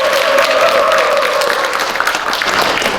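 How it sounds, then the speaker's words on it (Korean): An audience at a Korean company New Year gathering gives steady, loud applause to welcome a speaker, with a dense wash of clapping throughout and a faint voice briefly audible early on. "여러분 박수로 모시겠습니다"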